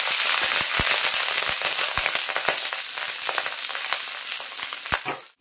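Cooked rice is added to hot oil with chopped ginger, left over from frying vegetables, for fried rice, producing a loud, continuous sizzle with sharp crackles and pops scattered through it.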